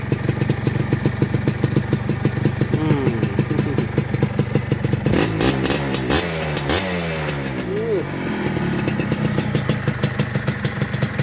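A restored Suzuki Akira motorcycle engine runs close by, a rapid steady popping idle punctuated by a few throttle blips and revs in the middle, with someone talking over it.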